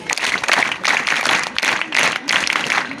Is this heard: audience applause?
yes